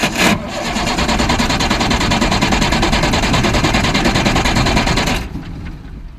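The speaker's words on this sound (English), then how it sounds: "it's trying to turn the motor over" Ford F800 dump truck engine cranking over steadily with a loud rapid chugging rhythm for about five seconds, then cutting off abruptly.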